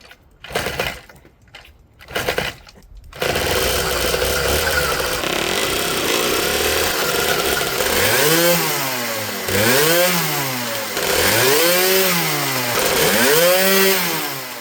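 A 140cc twin-engine motorized bicycle pulls to start, then catches and runs loudly, revving up and down repeatedly in rising and falling surges.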